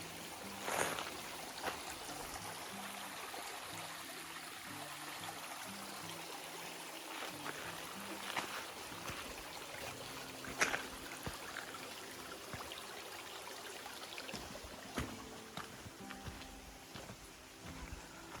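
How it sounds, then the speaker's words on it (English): A small stream trickles and burbles steadily nearby on the Appalachian Trail, quiet and continuous, with no voices. "Got another little stream crossing here."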